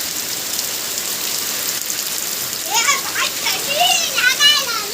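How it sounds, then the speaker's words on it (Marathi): Sudden afternoon rain in a Konkan village pours steadily as a broad, even hiss throughout, with children's voices and chatter rising over it in the second half. "मस्त आणि अचानक पाऊस आला साडेतीन वाजता"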